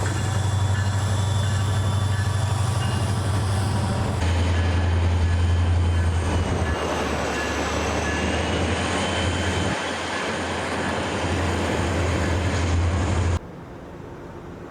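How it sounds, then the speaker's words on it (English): A loud train rumbles past Galesburg station with a deep steady drone and a high metallic whine, the roar holding strong before dropping off suddenly near the end. "Cargo and Amtrak passenger trains pass through Galesburg throughout the day."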